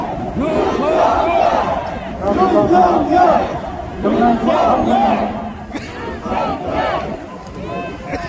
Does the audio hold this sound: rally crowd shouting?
yes